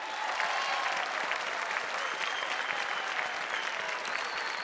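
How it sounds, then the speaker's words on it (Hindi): Steady, dense audience applause on a Bhojpuri television game show, loud and continuous throughout without a break, with a faint crowd murmur mixed in. "इस उपलब्धि के लिए जोरदार तालियां"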